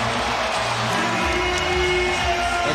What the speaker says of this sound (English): The crowd loves that.